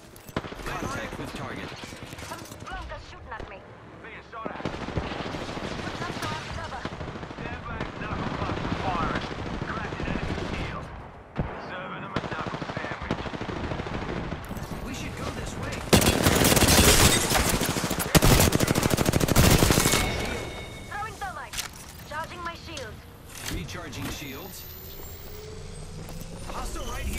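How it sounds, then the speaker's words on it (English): Gunfire rattles through a match of the battle royale video game Apex Legends, with repeated bursts of automatic fire, reload clicks and heavier sustained volleys, mixed among game voice lines and effects. "Contact with target. Shooting at me. Being shot at."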